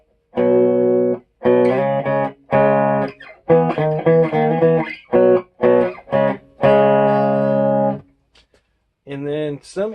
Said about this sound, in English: you can practice doing your power chords